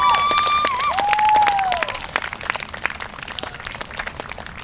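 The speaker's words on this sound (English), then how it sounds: "Let's give it one more round of applause." Rally crowd for higher education at UHM applauding, a burst of many hands clapping with scattered cheers, loud at first and then thinning into sparser claps over the last few seconds.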